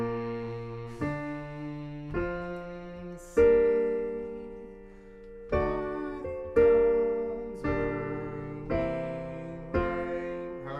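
Piano playing The Star Spangled Banner in a slow run-through, a steady sequence of struck chords and melody notes, each ringing out and decaying before the next, close and clear with no talking.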